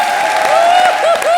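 Loud studio-audience clapping on an Indian television comedy show, a continuous wash of applause with sliding, whistle-like tones rising and falling above it.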